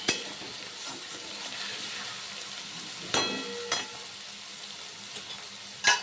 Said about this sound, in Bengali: পেঁয়াজ ভালো করে ভাজা ভাজা করে নেব, যাতে পেঁয়াজের কাঁচা গন্ধ না থাকে।